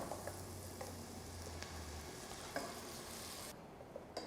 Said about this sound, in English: Now the basic tadka is ready, so I'll add the tomato puree.